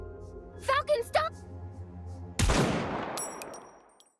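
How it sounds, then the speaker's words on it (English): A single gunshot in the video game NIKKE cracks out loudly after a couple of short voiced sounds, then decays into a long ringing tail with faint metallic echoes. "A single gunshot rings out."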